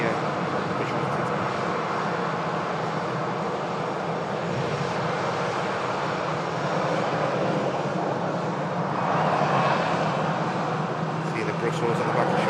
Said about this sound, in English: Slats retracted now as the aircraft makes its taxiway over to Terminal 2